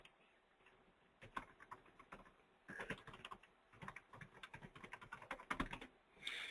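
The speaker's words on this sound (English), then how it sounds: "I'll type that in here." Fingers type on a computer keyboard in irregular bursts of close, crisp key clicks, with a brief pause near the start, and no one speaking.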